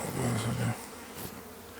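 Honeybees buzzing around an opened hive nucleus during an inspection, a close, fairly loud hum at first that drops to a quieter drone after a moment.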